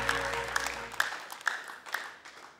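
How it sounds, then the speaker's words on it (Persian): Friends in a studio audience at a game show applauding, a short burst of clapping with several sharp individual claps standing out as it thins and fades. "دوستات بسیار تشویق کردن"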